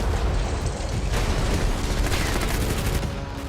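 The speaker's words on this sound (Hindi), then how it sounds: "जमीन और हवा से विस्फोट कर रूसी सेना यूक्रेन की धरती को इसी तरह दहला रही है" A rapid barrage of sharp blasts and bangs crackles over a deep rumbling backdrop, loud and continuous like heavy fire and explosions from Russian ground and air attacks in Ukraine.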